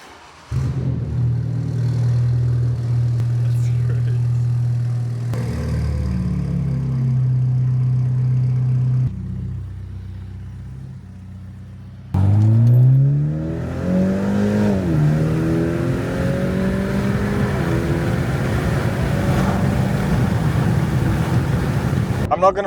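A BMW 330e with a new stainless steel exhaust and the back box deleted runs at a steady low drone, then revs with rising and falling engine tones, loud and close, with wind buffeting throughout.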